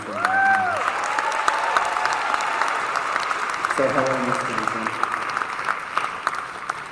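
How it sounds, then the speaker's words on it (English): Audience at a high school symphonic band concert giving a round of applause, steady clapping spread across the room while a voice speaks over it with brief electronic tones. "let's give a round of applause"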